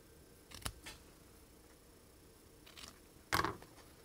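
Scissors snipping ribbon while making a greeting card, two or three brief crisp cuts close by, the last one loudest, over a quiet room.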